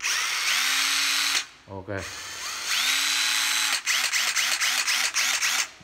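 A Hitachi cordless angle drill driver whirs loudly in steady bursts, spinning up and winding down with a brief pause and a short spoken word in the middle, then finishing with a series of quick, rapid on-off triggers.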